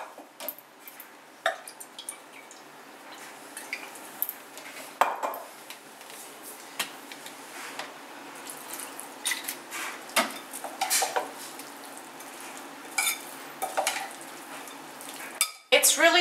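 Shredded cabbage salad dressed with olive oil and vinegar being tossed in a bowl, with a steady run of soft clinks, scrapes and rustles at close range, and loud clattering knocks near the end.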